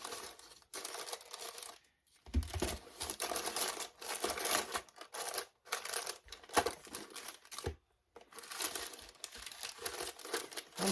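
Paper rustles and crinkles up close in bursts as someone searches for a small numbered box, with brief quiet pauses between the rounds of handling.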